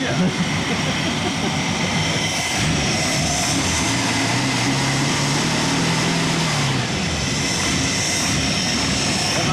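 The rough engine of a 1970 Dodge Charger, restarted after sitting 20 years and with a carburetor issue, runs steadily and loudly close by, droning with a broad rumbling roar, while voices talk over it.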